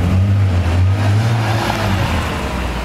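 Wiesmann sports car engine rumbling close by on a street, a steady loud low drone that holds for a few seconds without talk.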